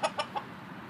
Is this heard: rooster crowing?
yes